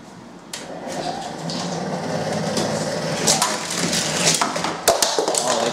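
Toy cars running along a motorized wall track toy, a steady loud rattling and grinding whir with sharp clacks and cracks near the end, heard alone.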